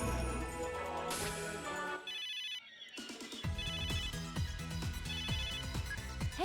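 A phone ringtone sounds in the video game Megadimension Neptunia VII, a loud electronic ringing melody that repeats over game music, briefly cutting out midway before resuming.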